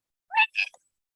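A two-part meow, short and clear against silence, most likely a human voice imitating a cat.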